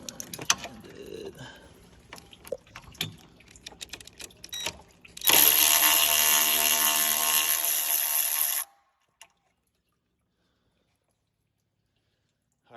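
A Ryobi power tool used on a 2016 RAM 3500 6.4L windshield washer system whirs loudly and close for about three seconds after scattered clicks and handling noises, then stops abruptly into silence.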